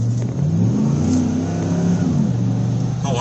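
A 2016 Chevy Silverado's 5.3 V8 engine with a P0300 misfire code revs up and accelerates, its deep rumble rising in pitch, heard close up without talk.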